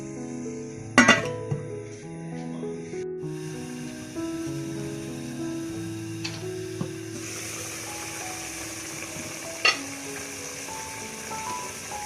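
A pot of chana pulao simmers steadily, with chickpeas cooking in boiling water under a lid, a continuous soft bubbling sizzle with a couple of faint metallic clinks and steady tonal hum alongside.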